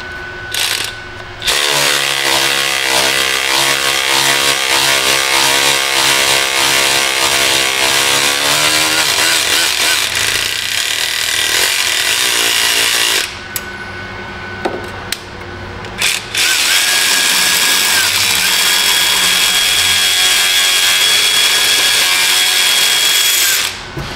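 Tap cutting fresh threads into a blown-out spark plug hole on a Honda Fit, a steady close mechanical whir with ratcheting texture, running continuously with two short pauses and no talk.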